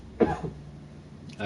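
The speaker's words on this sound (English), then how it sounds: "I felt that huge cough coming in" A single close cough from a player during a Dishonored play session, a sharp burst followed by a short trailing rasp, then quiet room tone and a faint breathy onset near the end.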